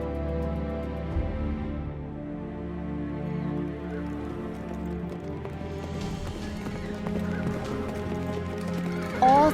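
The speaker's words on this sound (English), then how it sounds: "All Pharaoh's horses and chariots, horsemen and troops pursued the Israelites and overtook them as they camped by the sea." Horses neigh and whinny amid clip-clopping hooves as a sound effect in a dramatized Bible scene of Pharaoh's chariots and horsemen pursuing the Israelites, layered over a steady musical score for the full length.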